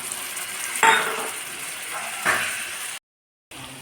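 Ground spice paste and chopped tomato hit hot oil in a pan for spicy chicken kosa, giving a steady sizzle with two louder bursts of spatter, then a brief silent gap before the frying resumes.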